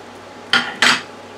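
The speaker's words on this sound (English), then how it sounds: "I'm gonna add the onions" Two quick clattering knocks of a utensil against a metal pot as chopped onion goes into water for haddock chowder, close and fairly loud, with quiet in between and no talking.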